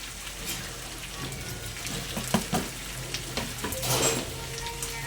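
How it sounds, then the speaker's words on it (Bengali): Raw banana fries with ginger garlic paste and spices, hissing and sizzling steadily while a spatula scrapes and taps against the pan every so often. "আদা রসুন বাটাটা দিয়ে আরেকটু ভালো করে আমি ভাজা ভাজা করে নেবো, যাতে গন্ধটা না থাকে।"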